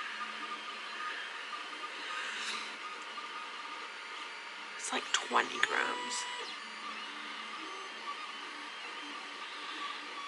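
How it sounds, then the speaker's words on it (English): A 3D printer runs steadily in the background, a low continuous whir with brief stepper-motor chirps near the middle, while a person speaks over it. "apologize for Wheezy in the background, my 3D printer."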